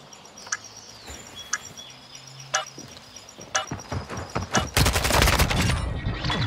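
Gunfire in a first-person shooter video game: a few scattered sharp shots, then a dense rapid burst of automatic fire toward the end, loud and close.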